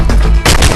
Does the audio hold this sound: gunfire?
yes